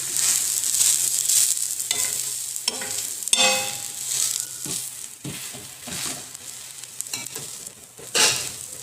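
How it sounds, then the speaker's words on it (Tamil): Millet-batter uthappam cooks in a pan on a low flame, giving a steady soft sizzle broken by scraping and stirring clicks from a utensil, close by, with no talk. "சிம்மில் வச்சு வேக வைங்க, அப்போ தான் நல்லாயிருக்கும்."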